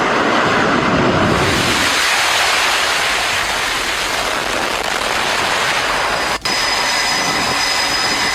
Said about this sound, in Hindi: वहां से ये फाइटर जेट्स उड़ान भर रहे हैं।